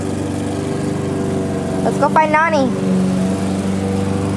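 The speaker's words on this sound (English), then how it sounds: "Daddy's over there mowing." A lawn mower cuts a yard on the other side of a fence, its steady engine drone running underneath as a person speaks nearby.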